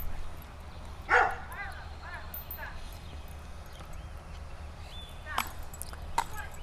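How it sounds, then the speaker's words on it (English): Neighbor's dogs barking in the distance outdoors near a potato garden, with a few sharp barks and yips scattered over several seconds against a low steady hum, faint rather than close. "Let me be quiet and see if maybe if I hush for a minute the dogs will stop barking."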